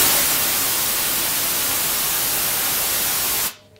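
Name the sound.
synthesized white noise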